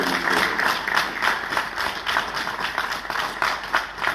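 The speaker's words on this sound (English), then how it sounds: "I request we give another round of applause to Marshal Jula and General Tadesse" Steady applause from a crowd at a peace briefing, many hands clapping continuously at an even level for the whole stretch.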